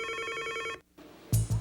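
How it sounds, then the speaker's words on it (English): A telephone rings in a 1992 office setting, its electronic warble sustained for nearly a second before a short silence, then two louder, lower thumps or clicks follow close by. "So often Sundays will begin with a Burt Rutan phone call."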